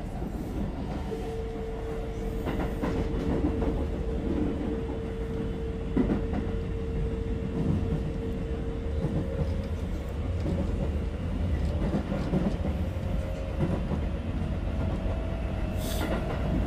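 A moving commuter train carries the listener inside, its steady rumble and wheel clatter continuous throughout, with a faint sustained whine in the middle and occasional brief knocks.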